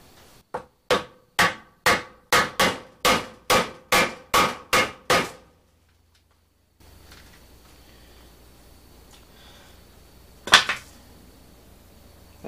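A hammer strikes a board padded with paper towel about a dozen times in a steady rhythm, sharp and close, during work on an Allis-Chalmers D2900 engine's front cover, followed by quiet background hiss and one louder knock later.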